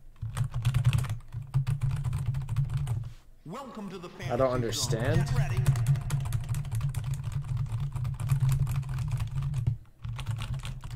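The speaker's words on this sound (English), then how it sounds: "I pressed every key on my keyboard." Keys on a computer keyboard are pressed in quick, steady bursts of clicking during a session of the game Shenmue, mixed with someone talking and a low game hum, with brief pauses.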